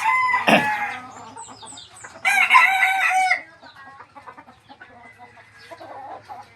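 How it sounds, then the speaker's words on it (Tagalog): Fighting cocks in a backyard give a loud nearby crow and clucks, then a second long crow, followed by quieter scattered clucking and faint background chatter. "So, tayo papatukan ng ating manokis."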